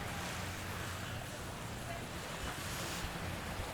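Ocean surf washes onto the beach at Palm Beach, Aruba, a constant broadband rush of waves with wind buffeting the microphone, steady and close throughout, with no distinct voices.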